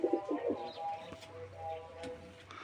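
Pigeons coo among birds kept for sale, with soft, fairly faint throaty coos near the start and quieter tones after, and voices murmuring in the background.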